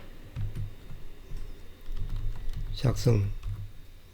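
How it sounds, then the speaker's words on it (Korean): A few soft keystrokes tap on a computer keyboard, followed by one sharper double click as a key is pressed near the end, all quiet and close under low background noise. "하고 엔터를 치겠습니다"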